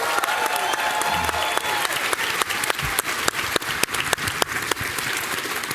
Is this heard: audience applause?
yes